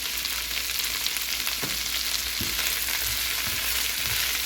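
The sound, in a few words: chopped ingredient frying in a pan for pasta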